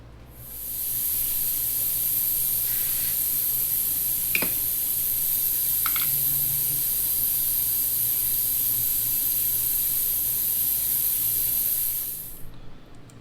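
A steady, loud spray hisses continuously for about eleven seconds as a fuel injector from a 2008 Kia Mohave 3.0 is cleaned, with a few small clicks and knocks in the middle, then cuts off.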